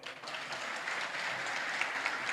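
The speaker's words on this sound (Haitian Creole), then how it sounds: "Battons bravo pour Issa Pavel." Steady applause from a crowd at a political speech fills the space evenly, a dense continuous patter of many hands clapping, moderately loud throughout without voices on top.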